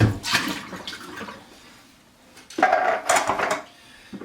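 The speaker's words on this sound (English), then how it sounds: "I just wash out the cans for recycling." Empty food cans being rinsed out with water for recycling in a kitchen, giving two short bursts of splashing and clattering metal, separated by a quieter pause, close by and with no talking.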